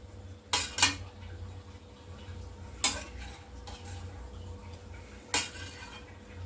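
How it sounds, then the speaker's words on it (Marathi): Carrots sautéed in ghee in a pan, with three sharp metallic clinks of a spoon against the pan spaced a couple of seconds apart over a faint low sizzle. "तर गाजर तुपावर आपण छान परतून घ्यायचे आहेत."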